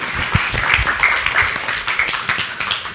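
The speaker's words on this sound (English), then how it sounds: "Let's cheer for Lena. Clap, clap, clap." An audience at an online talk on interviews and team building claps steadily for a speaker, a dense patter of many hands at moderate loudness throughout.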